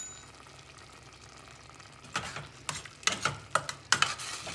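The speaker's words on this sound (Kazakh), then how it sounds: "баяу отта тауығымыз жұмсарып, әдем болып пісе берсін" Chicken simmering in sauce over low heat for homemade shawarma, with a soft sizzle and several sharp stirring scrapes and taps toward the end, close by.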